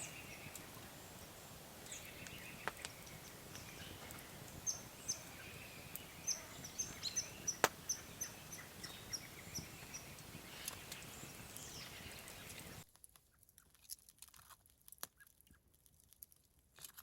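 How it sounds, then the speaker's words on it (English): Faint scattered bird chirps and tweets outdoors over a quiet background, with a few sharp clicks, ending in near silence. "I'm just listening to the birds and squirrel argue it out."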